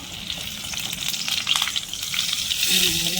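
Whole eggplant frying in a pan with masala, a steady close sizzle with light stirring throughout.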